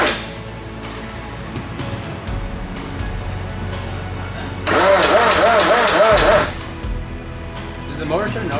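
A 2.3 stroker engine in an Evo wagon build being cranked over for its first start, a close, loud, rhythmic churning of the starter lasting about two seconds before it stops, with voices talking around it.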